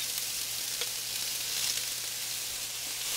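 Vegetable stems and leaves stir-fried in a hot pan for an Asian shrimp dish, giving a steady close sizzle with faint scraping stirs and no talking.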